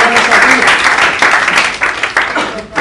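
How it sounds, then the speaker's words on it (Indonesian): An audience at a talk breaks into loud applause, a dense continuous patter of clapping that holds steady and thins slightly toward the end. "Jadi kita kasih tepuk tangan sekali lagi."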